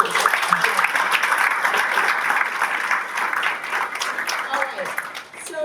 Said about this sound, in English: why don't we give everybody a round of applause and welcome them